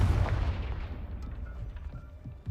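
An explosive spell in the Hogwarts Legacy video game detonates with a heavy, booming blast at the start, followed by a rumbling decay that tapers off over a couple of seconds.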